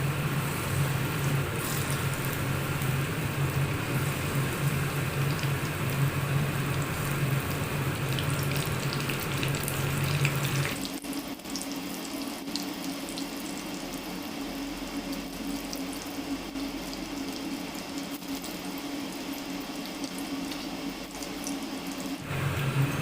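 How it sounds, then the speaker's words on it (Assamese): Malpua pitha frying in hot oil, a steady, loud broadband sizzle that drops to a quieter, thinner hiss about halfway through and continues without speech. "এতিয়া মই ইয়াত এটা এটাকৈ মালপোৱাকেইটা ভাজি যাম।"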